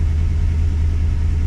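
A Holden VX SS Commodore with a rebuilt 4L60E automatic transmission idles in reverse gear, a steady low engine rumble close by and unchanging for a brief moment.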